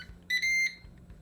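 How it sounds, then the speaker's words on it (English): A Ninja Crispi glass air fryer gives a short two-part electronic start beep, close and clear, over a faint low hum after air fry mode is selected. "immediately you can hear they have their signature beep sound"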